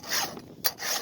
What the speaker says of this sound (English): the file's doing the job at getting the dirt out, it's sharpening and cleaning at the same time as we speak